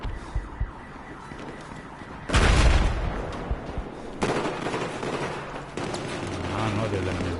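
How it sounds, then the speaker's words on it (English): Loud bursts of gunfire in Battlefield 4 multiplayer break out in waves over a busy battlefield din, with a voice talking in the background between the volleys. "I hear gunfire going off."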